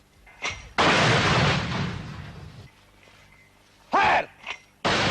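Mortar fire from a 1971 Bangladesh Liberation War position in Sector 2: a heavy blast with a long rumbling tail, followed later by sharper cracks and another burst, loud and fairly close.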